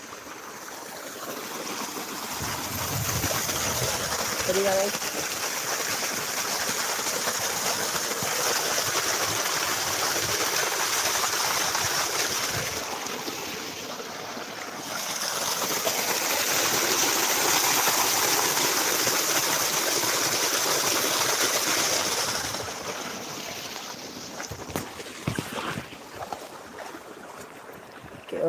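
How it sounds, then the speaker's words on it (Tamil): Water from a well gushes steadily from a pipe, a continuous broadband rush that stays loud throughout with slight swells, and a brief spoken word near the start. "தண்ணி பாஞ்சிட்டு இருக்கு பாருங்கள் நம்மளோட கேணிலேருந்து டேரெக்டாக பைப் கனெக்ஷன் வந்துட்டு இருக்கு தண்ணி"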